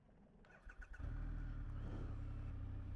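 A 2023 Triumph Rocket III motorcycle's longitudinal triple engine cranks with a few quick starter pulses, then catches and settles into a loud, steady, deep idle close by.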